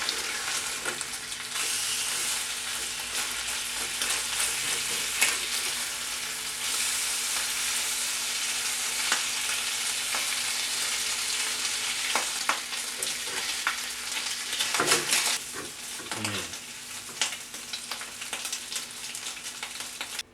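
Bacon sizzling and frying in a pan for a full English breakfast, a steady dense crackle that holds throughout, with a few louder spits and pan or utensil clatters partway through; no talking.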